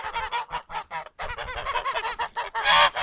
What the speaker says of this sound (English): Oh, the geese decided to show up.